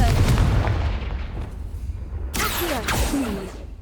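A Confringo fire spell blast in Hogwarts Legacy, a booming whooshing burst followed by a second sharp impact and fiery crackle, loud and close over game ambience.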